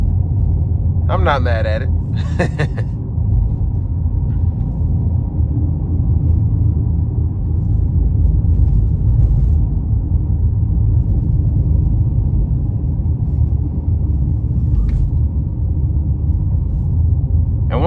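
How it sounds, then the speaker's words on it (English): A 2021 Honda Passport Sport's 280-horsepower 3.5-liter V6 drones steadily at cruise, a loud, throaty low rumble that fills the cabin throughout, with a brief spoken remark near the start. "I really like the overall sound coming from the engine. It's a bit on the throaty side, but for a 280 horsepower V6"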